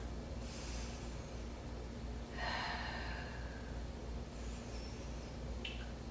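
Soft breaths during a held yogalates bow pose, a few faint airy inhales and exhales over a low steady room hum.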